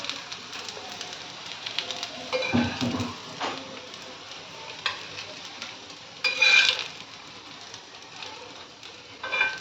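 Raw banana slices frying in a pan of oil, a low steady sizzle with bursts of louder crackle and occasional clinks of a utensil, close and moderately loud without talk.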